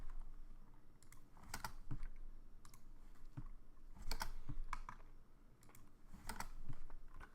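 Keys tapped on a computer keyboard while entering a dimension in modeling software, with irregular clusters of clicks and brief pauses between bursts, close and fairly quiet with no talking.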